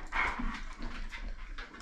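Dog in a room, a few faint whimpers and short soft vocal sounds spread across a moment of quiet.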